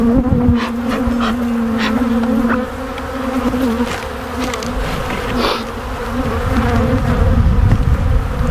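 A dense, steady hum of many honeybees buzzing close by as a hive box is opened, loud and continuous with individual bees droning past.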